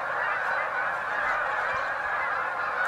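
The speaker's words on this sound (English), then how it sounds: "Something set these geese off." A large flock of wintering geese honking all at once as they take off, a dense continuous clamor of overlapping calls, loud and steady throughout with no voices.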